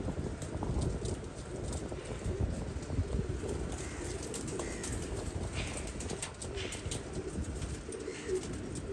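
Pigeons cooing and shuffling at a pigeon-racing practice, a steady mix of soft bird calls and fluttering sounds over continuous outdoor noise.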